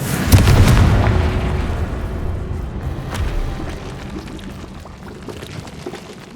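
Confringo blasting spell detonating in Hogwarts Legacy: a heavy, close boom at the start that decays into a long rumbling, crackling tail fading over several seconds, with no voices.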